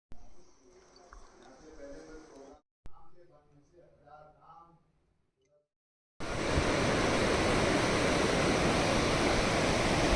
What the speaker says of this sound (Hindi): मेरे पीछे देख सकते हो ये है पिंडर नदी